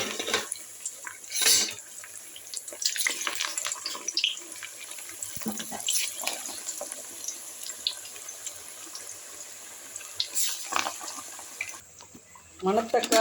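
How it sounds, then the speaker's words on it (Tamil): Manathakkali keerai vadai drop into hot oil and fry with a bubbling, hissing crackle that comes in uneven bursts and soft spatters, close by, with a few faint knocks. "எண்ணெய் நல்லா காஞ்சிருச்சு. வடையை தட்டி போட்டுருவோம்."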